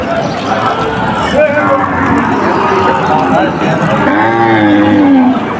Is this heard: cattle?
yes